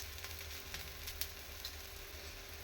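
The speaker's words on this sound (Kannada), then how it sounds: "ಇವಾಗ ಇದು ಬೇಯ್ತಾ ಇದೆ. ಸ್ವಲ್ಪ ಎಣ್ಣೆ ಹಾಕೊಳ್ಳೋಣ." A methi leaf talipattu sizzles softly in oil on a pan, giving a continuous low crackle with faint pops and nobody talking.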